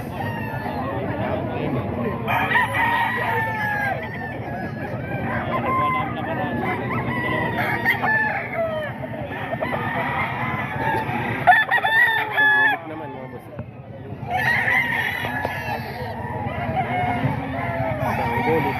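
Stag gamecock roosters crow again and again in a steady chorus with clucks, heard close. People talk underneath throughout.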